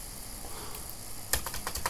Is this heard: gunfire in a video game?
no